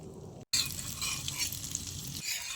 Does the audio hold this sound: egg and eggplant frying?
yes